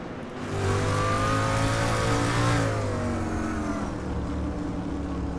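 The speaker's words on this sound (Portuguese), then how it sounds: "Já andam carros ali por fora e a corrida ainda não começou." Race cars lapping the Laguna Seca circuit before the start of a sim racing event, engines droning and rising in pitch as they accelerate, then holding a sustained steady roar of overlapping cars, fairly loud.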